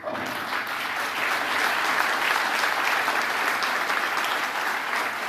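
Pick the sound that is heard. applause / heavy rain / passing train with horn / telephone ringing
applause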